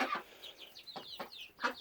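Baby chicks in a coop shared with Khaki Campbell ducks, giving a few faint, high clucks and chirps at irregular intervals, quiet and slightly distant.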